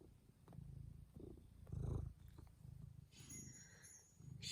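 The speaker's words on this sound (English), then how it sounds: "Can you hear her purring?" Bella, a pet cat kneading a blanket, purrs in a soft, low rumble that pulses with her breathing, very close and quiet, with a faint hiss of background noise.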